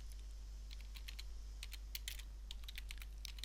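Typing on a computer keyboard while entering a search term in a PrestaShop online store's module search, a run of quiet, irregular key taps over a steady low hum.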